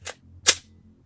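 Two sharp pistol gunshots on a beginner shooting range, a fainter crack followed about half a second later by a louder, brighter report, each fading quickly into quiet.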